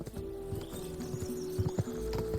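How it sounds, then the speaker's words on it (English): A horse gallops in Kingdom Come: Deliverance II on PS5, a quick rhythmic clatter of hoofbeats running briefly and clearly in the foreground. "Come on, horsey."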